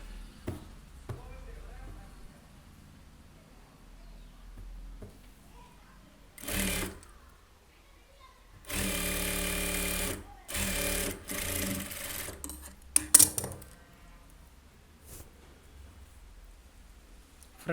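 Sewing machine stitching a lined blouse, heard in a few short loud bursts of running separated by quiet pauses and small handling knocks.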